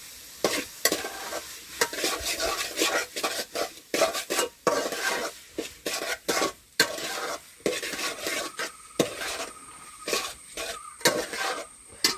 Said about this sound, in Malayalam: തക്കാളി ഇട്ട് ഉരുളൊക്കെ ഇളക്കാം